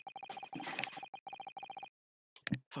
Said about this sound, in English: Fucking phone calls all the goddamn time.